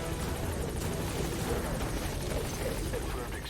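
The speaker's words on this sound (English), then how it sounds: "Support helicopter requested." A support helicopter arrives in Metal Gear Solid V: The Phantom Pain, its rotor chopping in a loud, steady throb that fills the scene, with a voice speaking over it.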